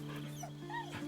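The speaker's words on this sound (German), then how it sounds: "Ich liebe diesen Hund." A dog in the video game Baldur's Gate 3 whimpers and yips in short, high, whiny cries over a steady low hum, close but fairly quiet.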